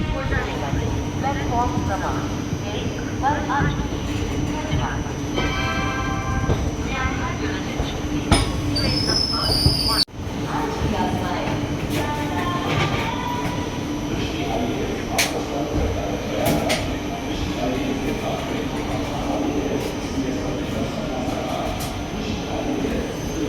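The Kalindi Express 14118, a passenger train leaving Prayagraj, rumbles steadily along the rails, heard from inside with a brief wheel squeal near the middle, while a person talks over the noise.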